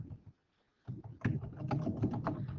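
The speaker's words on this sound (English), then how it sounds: "I'm typing it." Typing on a computer keyboard in a classroom note-taking setting, a brief burst of clicks, a pause, then a denser run of close, distinct keystrokes with no talk.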